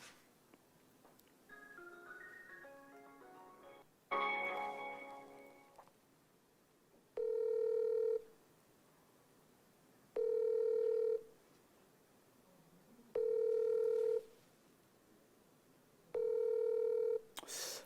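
A phone redialing a call that went unanswered: a few quick keypad tones, then four evenly spaced ringback beeps of about one second each, loud and clear with silent gaps between them.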